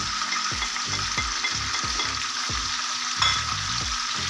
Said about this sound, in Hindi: इसको मैं थोड़ा सा हिलाऊंगी, मसालों को मिक्स करूंगी।